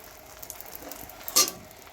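An egg frying in a pan gives a soft, steady sizzle, with a brief louder clink or scrape near the end and no talking.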